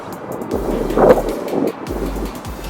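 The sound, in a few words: wind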